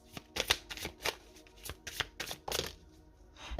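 Tarot cards being shuffled to draw an advice card give a run of crisp riffling flutters and soft slaps, close and uneven, with no voice over them.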